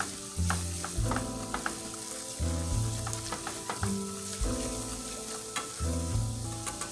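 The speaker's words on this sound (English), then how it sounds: "And you want to keep whisking. As you can see, it's thickening up." Flour gravy for smothered chicken breast being whisked in a sizzling pan, a close rhythmic whisking pattern repeating over a continuous sizzle, moderately loud with no voices.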